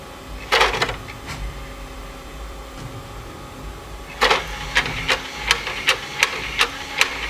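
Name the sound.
Xbox console disc tray opening and closing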